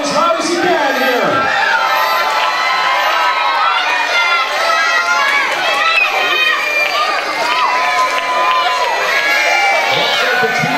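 A New Year's Eve party crowd in Ottawa cheers on teams racing in an IKEA challenge, with loud continuous shouting, whoops and excited voices, including children, forming a constant roar close by.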